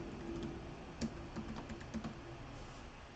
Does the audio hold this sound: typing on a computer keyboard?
yes